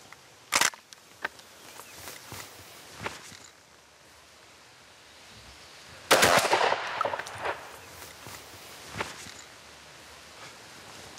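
A smoothbore shotgun fires a skirted-wad cartridge at 25 metres outdoors, giving one sharp loud blast followed by shorter cracks and handling clicks, with a quiet outdoor background.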